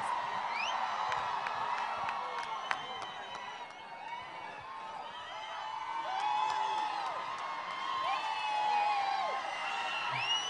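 A large crowd at a film audio launch event cheers, whoops and shouts continuously, with high-pitched yells rising over a steady roar of voices throughout.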